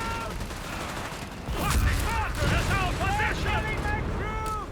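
Scattered rifle and machine-gun fire crackles in a Company of Heroes 3 battle, with bursts thickening midway alongside chirpy effects, while a commentator's voice runs throughout.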